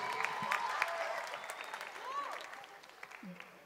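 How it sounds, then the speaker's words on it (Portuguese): A congregation at a church service claps for a cell group, the applause strong at first and then thinning out, with cheers and voices over it. "Uma salva de palmas para a célula turista,"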